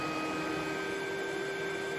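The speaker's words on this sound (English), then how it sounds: "Nice quiet vacuum." A Lindhaus Valzer L-Ion battery vacuum cleaner runs steadily at close range, a continuous even whirring drone with a fixed high whine and no change in pitch, with no one speaking.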